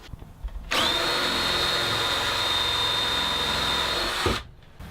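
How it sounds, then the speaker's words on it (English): A power drill fitted with a countersink bit and stop collar bores into reclaimed wooden crate boards, a single steady high-pitched whine running close and loud for about four seconds before cutting off. "I'll go ahead and drill and countersink."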